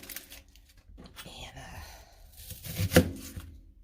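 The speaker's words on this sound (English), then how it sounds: "I'm dicing all my vegetables up" A knife dices leftover vegetables on a cutting board, giving a few scattered, quiet chopping strikes with a sharper cluster near the end, over soft murmuring in the background.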